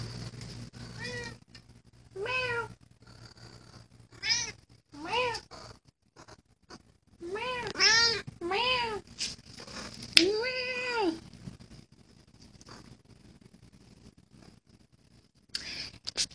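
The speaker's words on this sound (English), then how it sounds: "Listen to this cat, man." A female cat in heat meows repeatedly, long drawn-out yowls in irregular bursts with short pauses between, fairly close in an otherwise quiet room.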